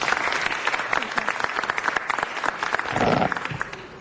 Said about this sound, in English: Please give them a round of applause as they come forward.